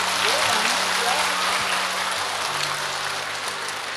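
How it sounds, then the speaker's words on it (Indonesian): Listeners at an Islamic study gathering clap for a firstborn child, a moderately loud applause that tapers slightly toward the end while voices talk over it. "Tepuk tangan dulu buat anak pertama."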